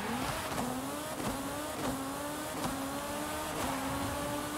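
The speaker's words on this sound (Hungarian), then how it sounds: "ez egy Renault. 1968-as Renault 4L." Video-game engine of a 1968 Renault 4L, a steady buzzing drone with rising and falling pitch as it revs repeatedly, fairly quiet and continuous, without talk.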